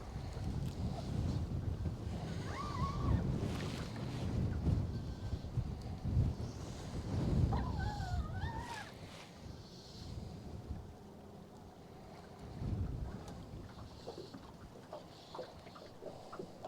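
Wind gusting across open water while fishing from a small boat, a steady rushing roar with low buffeting against the microphone throughout, swelling and easing in waves with no talking.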